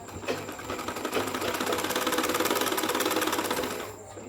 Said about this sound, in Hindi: से फोल्ड करेंगे और इस पर सिलाई लगाएंगे सीधी।